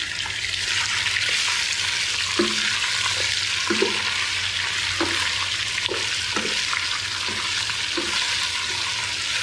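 Chicken pieces frying in hot oil with browned onions for biryani, a dense, continuous sizzle with occasional soft stirring knocks against the pan, close and without talk.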